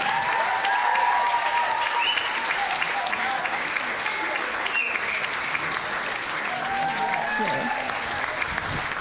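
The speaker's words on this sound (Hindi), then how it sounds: "आपकी तालियां बताएंगी कि कैसा था।" Sustained audience applause fills a theatre after a multidisciplinary stage production, a dense, steady wash of many hands clapping at even loudness throughout, with faint crowd murmur underneath.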